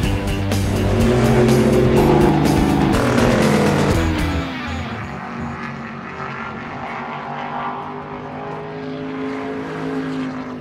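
A NASCAR race car roars loud and close on a track, its engine note rising and then falling away as it passes, with a fading engine drone continuing after it.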